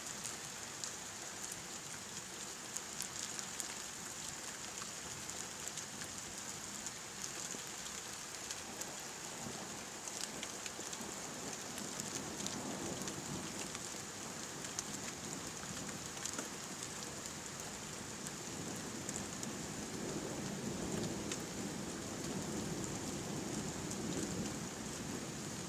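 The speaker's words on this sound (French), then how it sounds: "c'est des bons orages bien électriques. De vrais bons orages, dignes de ce nom." Heavy rain pours steadily during an electric October thunderstorm in Carpentras, with a dense hiss running throughout and low rumbles swelling toward the end.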